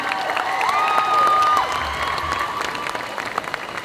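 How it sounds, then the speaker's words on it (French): An audience at a cosplay group contest applauds and cheers, a steady roar of clapping with a thin whistle-like tone rising and holding briefly through the middle. "Vous pouvez les applaudir."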